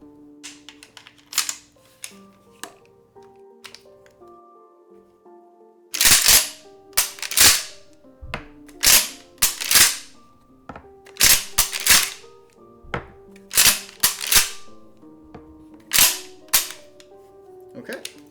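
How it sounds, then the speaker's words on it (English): A shotgun in the video game Ender Lilies fires in sharp, loud, close cracks. They start sparse, then come in irregular bursts of several blasts against quiet game sounds, with no talking. "I hope the shotgun ASMR is nice"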